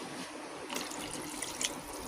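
Half a cup of cold water pours into a pot of chicken corn soup, a short, soft liquid splash and trickle heard up close with no talking.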